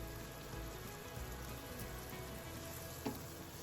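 Mustard sauce hitting a hot pan for a sea bass fish curry, giving a steady, close sizzle and crackle that runs without a break, with a soft scrape of stirring near the end.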